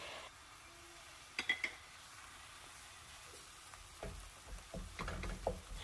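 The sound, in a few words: ground beef with garlic and spices frying in a pan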